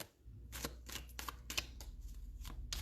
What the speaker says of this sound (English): what I would like you to do is shuffle the deck